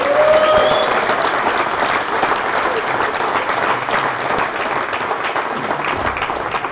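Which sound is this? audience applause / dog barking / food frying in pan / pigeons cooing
audience applause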